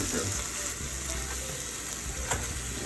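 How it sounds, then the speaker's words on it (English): Spinach sautés in a pan for a braised lamb chop dish, giving a continuous, fairly loud sizzle and crackle with an occasional stirring scrape. "Let's saute a bit."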